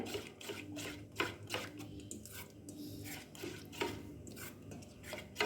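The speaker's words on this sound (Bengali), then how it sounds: "এবার খুব ভালোভাবে মিশিয়ে নেব" Semolina batter with baking soda mixed in a bowl, a spoon scraping and clinking against the sides in repeated quick strokes, close and moderately loud, with no talking.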